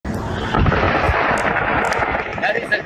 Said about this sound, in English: That is a gunshot.